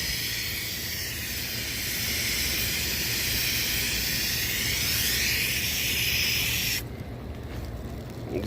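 Steady hissing spray of cleaner and rinse water directed between HVAC condenser coil tubes, a continuous broadband rush that drops away abruptly near the end, leaving a softer background.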